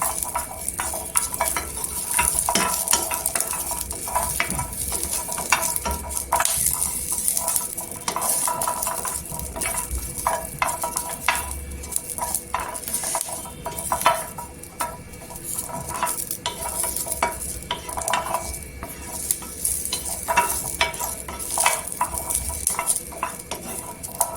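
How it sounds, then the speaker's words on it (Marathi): Garlic cloves are pressed down and roasted in a pan, giving continuous scraping, stirring and clinking of a utensil against metal over a soft sizzle, close and steady. "आणि त्या लसणाची दाबून दाबून भाजायची दाब पर्यंत"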